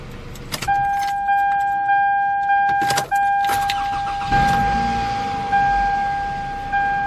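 A 2004 Toyota Camry with a replaced starter cranks and catches into a low idle about halfway through. A steady dashboard warning chime plays throughout, with jangling keys near the start.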